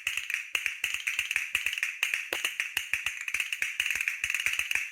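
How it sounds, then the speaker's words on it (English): Castanets click in rapid, crisp bursts of rhythmic clacks, bright and close, playing alone without any voices. "Castanets."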